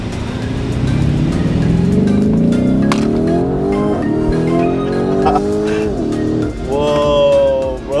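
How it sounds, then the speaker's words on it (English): A 2021 Lamborghini Urus roars through a hard 0 to 100 run, its engine note climbing steadily in pitch through several gear changes, loud and close with a brief dip between shifts. "let's pull this thing from a 0 to 100"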